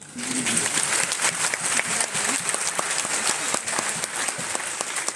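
A large crowd at a farmers' fair inauguration at a university applauds loudly and continuously, with dense, even clapping throughout and a voice briefly audible at the start.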